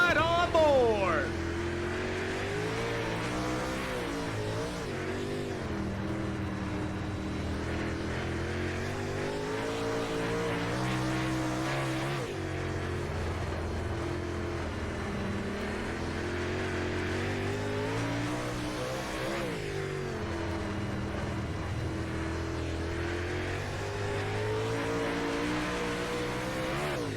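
An onboard super late model race car engine roars at Lucas Oil during a feature race. The loud, continuous engine drone rises and falls as the car works through laps, with commentary talk running over it.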